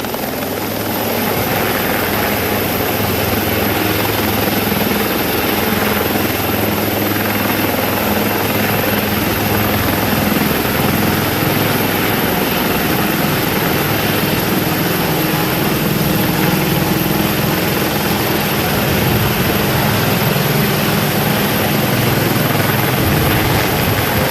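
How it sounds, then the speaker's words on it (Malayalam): A rescue helicopter lifts off carrying a mission team, its loud, steady rotor and engine roar filling the whole stretch with constant low thumping and whine, close and unbroken. "ഇപ്പോൾ ഹെലികോപ്റ്റർ പുറപ്പെടുകയാണ്"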